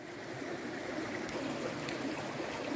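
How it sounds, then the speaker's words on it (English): Clear water flows steadily from a karst spring in limestone country, a continuous broadband rush and babble, close and unbroken, with no voices. "this is a karst spring."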